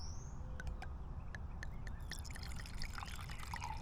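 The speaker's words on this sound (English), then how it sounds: "should probably go ahead and pour some in my cup I have with me today" Smoking Loon wine trickles softly into a cup outdoors in a public park, a faint, steady pour with small drips against low background hum and distant birds.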